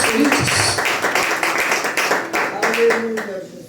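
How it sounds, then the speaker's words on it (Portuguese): A church congregation claps together in a thick, continuous patter of many hands, with a voice rising over the clapping for several seconds. "Vamos aplaudir Jesus, queridos"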